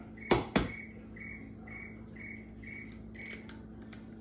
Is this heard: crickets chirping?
yes